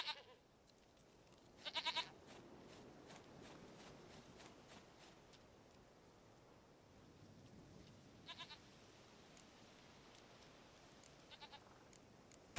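A goat in the video game The Witcher 3 gives a few short, clear bleats, one early and a couple more later, separated by long stretches of quiet ambient background.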